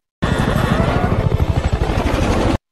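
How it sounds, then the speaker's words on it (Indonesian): A helicopter flies over a river in a film scene, its loud throbbing rotor beat pulsing steadily through a dense engine roar for the short stretch, starting and stopping abruptly. "Saat helikopter melintas di atas sungai, Salt melompat keluar"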